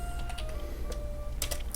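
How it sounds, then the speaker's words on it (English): Typing on a computer keyboard while organizing items in Animal Jam: quick, light clicks in short irregular bursts, close but quiet over a steady background tone. "it's a lot of typing to keep this all straight"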